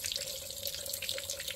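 Water runs steadily from a Toyota Avanza radiator with an overheating problem, a continuous close splashing flow, like a tap pouring into a sink, with no voices.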